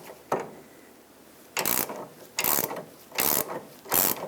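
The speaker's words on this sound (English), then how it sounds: "And then just put a 17mm wrench over, right on that mounting nut." A 17mm ratcheting wrench works a front lower control arm mounting nut on a 2008-2012 Honda Accord, with one short click followed by four bursts of loud, rapid ratcheting, close up with no talk.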